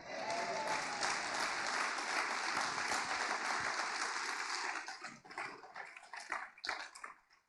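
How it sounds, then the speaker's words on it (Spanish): A church congregation claps loudly and continuously during a sermon, then the applause thins out into scattered claps and fades near the end. "¿En dónde quedaron los aplausos?"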